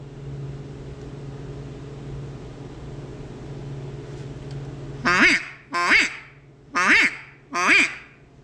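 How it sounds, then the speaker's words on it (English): A homemade duck call made from pinecone and casting resin, fitted with an Echo insert, blown in four loud, separate quacking bursts after a long stretch of faint background hum. "And you got a duck call."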